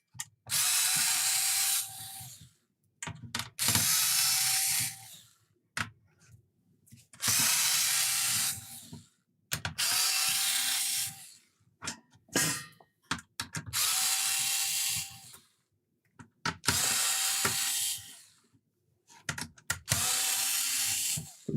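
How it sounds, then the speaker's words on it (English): An electric screwdriver drives screws down into an Amiga 500 circuit board in repeated whirring bursts of about two seconds each, with a ratcheting clutch click as each screw seats and short quiet gaps between, close and clear. "Good job we got an electric screwdriver."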